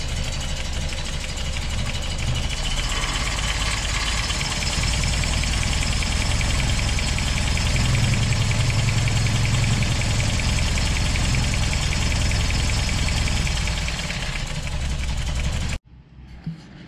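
A Toyota 22RE four-cylinder engine runs steadily while warming up, a loud continuous idle with a fast even rumble for about fifteen seconds before cutting off abruptly.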